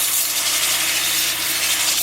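A drill-driven sanding pad works a laurel wood bowl spinning on a lathe at 350 RPM with 80-grit abrasive, giving a steady, close, continuous abrasive hiss and rub with no pauses.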